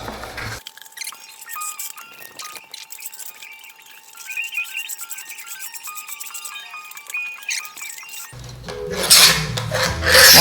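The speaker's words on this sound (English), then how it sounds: "So let's get the inside burrs off" Loud, steady rasping and scraping as a tool deburrs the inside rim of a plastic five-gallon bucket, joined by squeaky, tonal rubbing and ending in a coarser burst of scraping.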